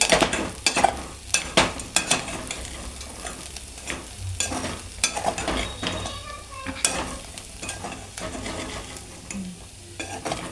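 Potato curry with fresh coriander being mixed in a pan, with a close sizzle under frequent spatula scrapes and clinks against the metal.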